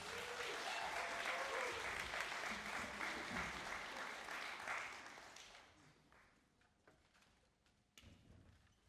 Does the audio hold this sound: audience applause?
yes